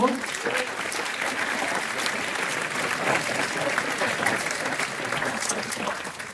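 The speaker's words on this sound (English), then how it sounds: "Please give her a round of applause." A seated audience at an evening launch event applauds a harpist, steady hand clapping filling the hall at moderate level throughout.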